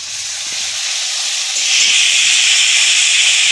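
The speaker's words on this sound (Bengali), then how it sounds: "মশলাটা কষিয়ে নিচ্ছি এখন" Spices being fried down in oil for a meat dish over a wood fire in a home kitchen give a steady, loud hissing sizzle that swells louder partway through, with no talking.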